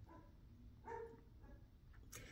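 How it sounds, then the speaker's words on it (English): A dog barks outside, a few short muffled barks at a distance with a louder burst near the middle and a sharp yelp near the end, over a low steady room hum. "My dog's barking outside"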